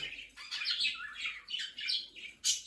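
Budgerigars chirp and warble in bursts of high, busy calls, with a male courting a female, close and fairly quiet with short pauses between phrases.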